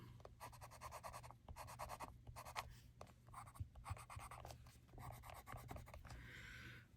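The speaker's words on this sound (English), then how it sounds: "Just doing a little more of this white pencil." A white colored pencil rubs across paper in steady back-and-forth strokes, faint and close, with brief pauses between bursts of coloring.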